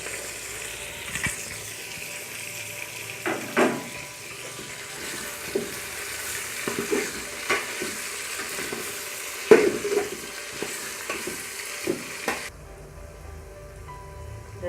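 Tomatoes frying in a pan of chicken pulao after the chicken has turned golden brown, giving a steady close sizzle with scattered stirring clatters and scrapes, ending abruptly into near silence.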